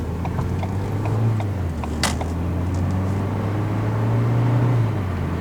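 A car with a PowerShift dual-clutch transmission accelerates in sport mode, its engine a steady close droning hum that rises slightly in pitch as it holds each gear longer, with no talk over it.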